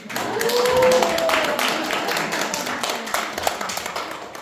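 A church congregation claps for the pastor's wife after a worship set, a dense patter of many hands with a faint whistle-like tone early on, fading slightly toward the end.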